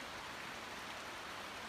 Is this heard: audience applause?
no